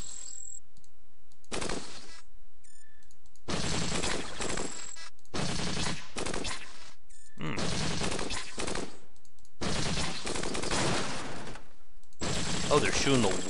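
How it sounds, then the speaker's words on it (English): Bursts of rapid automatic gunfire blasting out a wall in the sci-fi roguelike Cogmind, a series of loud, dense volleys broken by short silent gaps, with small clicks in between. "Oh, they're shooting the wall out."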